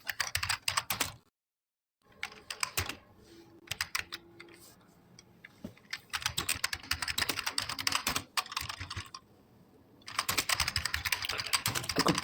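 Keys clatter steadily as code is typed into Notepad on a computer keyboard, with rapid clicking bursts broken by a couple of short silent pauses and quieter stretches.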